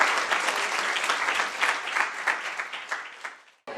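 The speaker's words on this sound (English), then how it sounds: "Can we give Samantha a round of applause?" Audience applause closing a morning conference session, a steady dense roar of many clapping hands that holds for several seconds, then fades and cuts off near the end.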